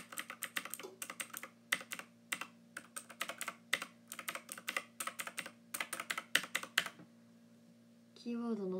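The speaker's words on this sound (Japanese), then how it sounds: "キーボードの音が昔から大好きなの。" Rapid, close keyboard clacking in uneven bursts of typing with brief pauses, then a voice begins speaking at the end.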